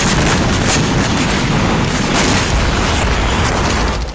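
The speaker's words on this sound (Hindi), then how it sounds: "इजरायली वायुसेना दक्षिण गाजा में हमास के ठिकानों पर बमबारी कर रही है।" Israeli air force bombing of Hamas positions in southern Gaza, a loud, continuous roar of blasts and rumbling booms filling the clip without a break.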